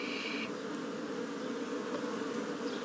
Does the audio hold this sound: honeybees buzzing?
yes